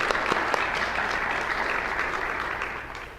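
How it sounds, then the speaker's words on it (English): A graduation ceremony audience applauds at a temple, steady dense clapping filling the room throughout and tapering slightly toward the end, with no talking over it. "So if we could give a round of applause."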